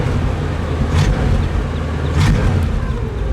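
A 1959 Cadillac Eldorado Biarritz convertible engine with dual exhaust under kick-down, a smooth continuous low roar with two brief swells of rushing noise, heard from close by.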